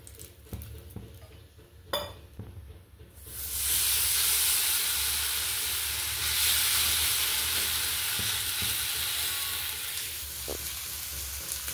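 Multigrain dhapata flatbread fries in oil poured into its holes on a pan; a few quiet taps come first, then a loud hissing sizzle bursts in and holds steady with faint crackles.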